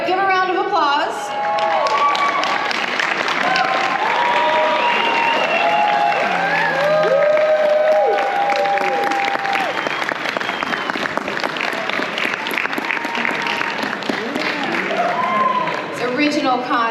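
A convention panel audience at Spooky Empire applauds a costume contest entrant, with sustained loud clapping and cheering mixed with crowd chatter and voices throughout.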